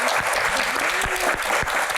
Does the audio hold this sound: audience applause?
yes